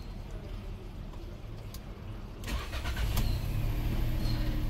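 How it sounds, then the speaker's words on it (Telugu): A 2021 Volkswagen Polo GT Line with automatic transmission cranks and starts, the engine catching about halfway through and settling into a steady idle inside the car. "ఒకసారి ఇంజన్ స్టార్ట్ చేస్తున్నా అండి"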